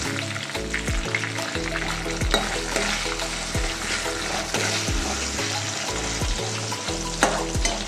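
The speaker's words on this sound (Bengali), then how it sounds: "রসুনটা ভাজা হয়ে গেছে। আমি টমেটোগুলো ছেড়ে দিচ্ছি।" Tomatoes go into a pan of fried garlic, curry leaves and hot oil for a Bengali butterfish curry, sizzling loudly up close with stirring scrapes over background music and no talk.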